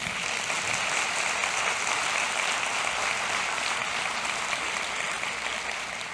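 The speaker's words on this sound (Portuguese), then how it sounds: "eu queria pedir uma salva de palmas para as caminhadas domingueiras" Sustained applause from an audience at a talk on Recife as a park city, dense and steady throughout with no voices over it.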